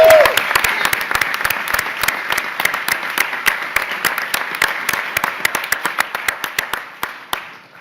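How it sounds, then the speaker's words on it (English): Steady, energetic applause fills a room at a hospital announcement event, with many crisp hand claps overlapping for several seconds before fading out near the end. "You deserve a round of applause."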